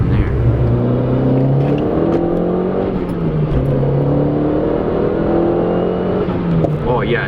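A Volkswagen Jetta 2.0T TSI with a K04 turbo accelerating on the road, engine drone rising and falling in pitch through gear changes, heard from inside the car with road and wind noise.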